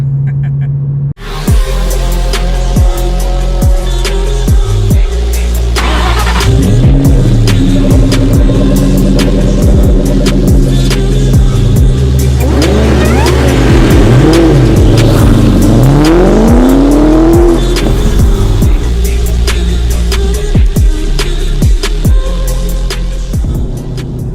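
Torch red 10th anniversary Ford Terminator Cobra driving on the road, a loud continuous engine drone with rising and falling revs through gear changes, heard from close by throughout.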